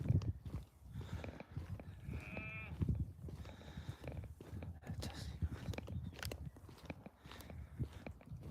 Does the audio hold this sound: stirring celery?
no